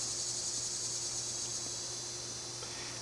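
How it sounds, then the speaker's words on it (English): Cicadas buzz steadily outdoors in summer, a continuous high, hissing drone that stays even and moderately loud throughout with no voices. "It's cicada season."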